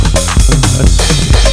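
Punchy, short electronic kick drums thumping in a quick repeating pattern from a 707 drum machine triggered over MIDI, loud and dry, with other synthetic tones underneath.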